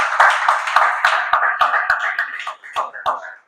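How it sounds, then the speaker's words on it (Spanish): Rhythmic applause in a church service, a small congregation clapping in a steady beat of sharp, fairly close strikes that falters briefly and resumes toward the end. "Denle un aplauso al Señor"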